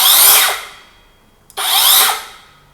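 An OSUKA OCS827 cordless circular saw whirs loudly up close in two bursts, each spinning down with a falling whine, separated by a brief pause.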